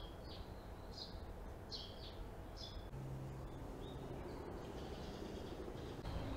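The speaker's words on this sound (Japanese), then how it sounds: "鳥がね結構ねここは鳴いていて" Bird calls chirp repeatedly outdoors, a few bright short phrases in the first seconds and fainter ones later, over steady background noise.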